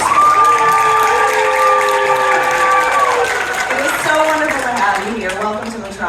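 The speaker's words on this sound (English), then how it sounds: "let's give one more round of applause for Nicole and Jesse" A crowd at a Superman Celebration Q&A applauds and cheers, loud and sustained at first, with a tonal whine and voices mixed in, fading slightly toward the end.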